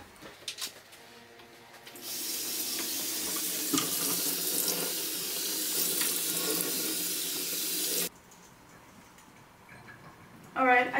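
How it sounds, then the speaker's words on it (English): Steady rush of warm running water from a tap washing soybeans for about six seconds, with brief handling noises and clinks before and after the flow. "First thing we need to do is to wash them with warm water"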